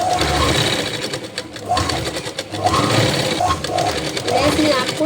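A sewing machine stitches lace onto fabric for a pant design, running with a steady, close mechanical whir and rhythmic needle chatter while someone speaks over it.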